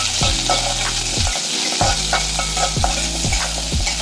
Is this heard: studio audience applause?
no